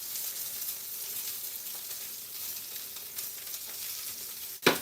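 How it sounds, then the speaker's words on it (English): Green onions and carrots sizzle steadily over low heat in a pan, a continuous close frying hiss that runs throughout and ends in a sudden louder clatter. "So now I'm just gonna add in the green onions, the white and light green portions of the green onions."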